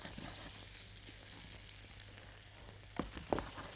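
Onions sautéing in a pan, a faint, steady sizzle with a few soft clinks from stirring near the end.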